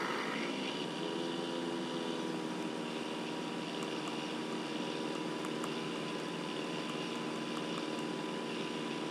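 A light aircraft's engine and propeller drone steadily through the whole stretch, throttle pulled back on approach to land near Chicago, a constant moderate hum with no talking.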